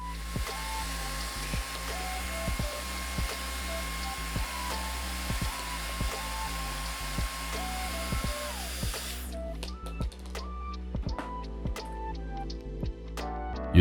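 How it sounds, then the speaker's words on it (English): A Mifen hair dryer runs loud and steady at close range with a broadband whoosh and a faint tonal whine, then cuts off abruptly near the end, leaving quiet clicks and handling sounds. "Using the Mifen hairdryer works incredibly well."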